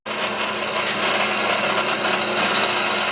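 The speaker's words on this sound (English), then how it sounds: "And we're going to drill them right now." A power drill bores holes for a clutch master cylinder mount on a 1946 Ford, a steady, loud, grinding whir running continuously without pause or talk.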